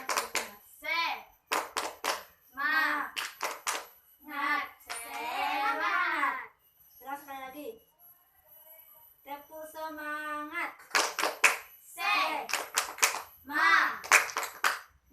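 Children perform the tepuk semangat clapping chant, rhythmic bursts of hand claps alternating with short chanted phrases from young voices, with a brief quiet gap midway.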